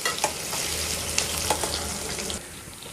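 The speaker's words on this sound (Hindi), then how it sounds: "एक कढ़ाई ली, उसको मैं तेल डाली 5-6 टेबल स्पून ऑयल, और इसमें प्याज को फ्राई करेंगे" Onions fry in about five to six tablespoons of oil in a kadai, giving a steady crackling sizzle close up, with a few light clinks and stirs scattered through it.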